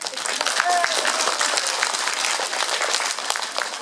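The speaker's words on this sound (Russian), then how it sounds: "Аплодисменты." A concert audience applauds a balalaika teacher with full, continuous clapping from many people, loud and even throughout.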